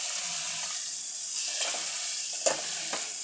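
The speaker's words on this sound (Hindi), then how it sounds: "इसको कम से कम 3 मिनट तक भूनेंगे" Tomatoes fry in a pan for a chicken kofta gravy, a steady close sizzle broken by a few stirring scrapes, with no talking.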